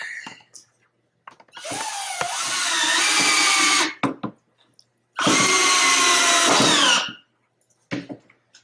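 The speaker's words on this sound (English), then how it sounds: "I'm just going to stand them up right on the ends and screw them in" Power drill driving deck screws into wood: two sustained whirring runs rising in pitch, each a couple of seconds long, close and loud, with short clicks and knocks between.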